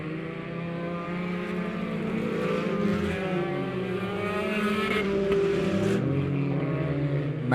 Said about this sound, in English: Ryan Wolgamut in that 18 machine trying to run him down